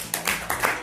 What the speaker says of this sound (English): if you are here, clap for yourself first